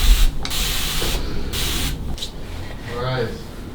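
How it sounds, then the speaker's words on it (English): A spray bottle spritzes water in several short hissing bursts, close to the listener, with a brief voice toward the end. "I literally just use a spray bottle with water"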